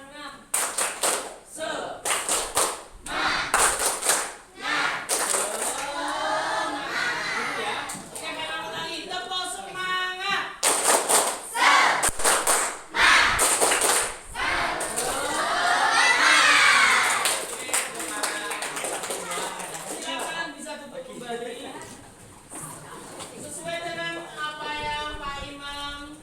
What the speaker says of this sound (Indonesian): Kasih contoh. Tepuk semangat.